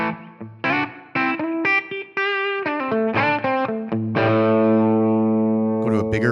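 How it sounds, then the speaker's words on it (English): Distorted electric guitar through a TONEX ONE amp model and Helix room reverb, playing chords and single notes with sharp attacks, ending on a long sustained chord with a short room tail. "I can come down here and turn my room reverb on now"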